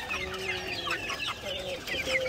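White barred rock hens clucking nearby in a steady, busy chorus of short overlapping calls, with a few longer drawn-out notes mixed in and no talk.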